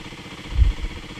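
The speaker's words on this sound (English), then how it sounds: "My bike actually appears to be idling normally" A Kawasaki KLX300 dirt bike engine idles steadily after warm-up, a low, even thrum close by with a slight pulse near the middle.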